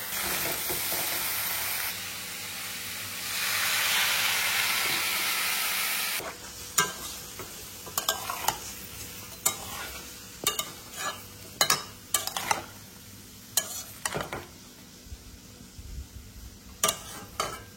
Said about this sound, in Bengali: কাঁঠালটায় নাড়াচাড়া দিয়েছি, হালকা একটু জল দিয়েছি, এখন ঢেকে দেবো।